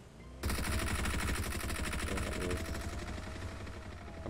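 Gunfire in a shooter video game: a long, sustained automatic spray of rapid, evenly spaced shots, loud and close, rattling on without pause for about four seconds after a sudden start, with no voices.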